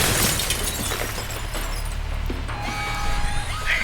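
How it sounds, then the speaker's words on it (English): Glass shattering in the video game Alpha Protocol, a loud crash and spray of breaking shards up front, then tinkling debris and a thin electronic tone as it settles. "The door's locked down, but you might be able to find a way to break the glass."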